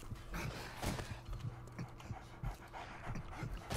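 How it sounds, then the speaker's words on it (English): Attacking dogs in the survival video game 7 Days to Die pant and scramble close by, their quick, rough rhythmic footfalls and breathing continuing steadily throughout. "Dogs?!"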